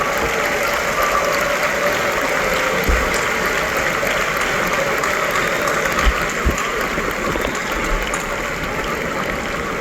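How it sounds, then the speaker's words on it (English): A graduation ceremony audience applauds steadily and loudly, a dense unbroken patter of many hands filling the whole stretch without talk. "give them a rousing round of applause"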